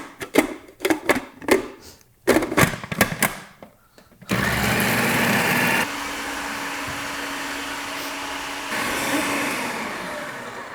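A blender pureeing cottage cheese until creamy: rapid choppy pulses and clatter at first, then a steady loud motor whir that carries on and shifts pitch slightly near the end.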